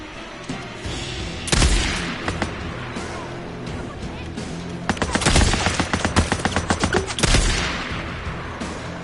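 Gunfire in the video game Days Gone, survival mode: three loud clusters of rapid shots, each a dense burst of bangs, separated by quieter stretches of ambient game background.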